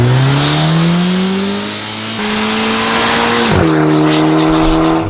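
A Volkswagen Polo GTI accelerating hard as heard from outside, its engine climbing through the revs, dipping at a gear change, then pulling again close by and loud.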